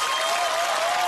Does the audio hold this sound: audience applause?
yes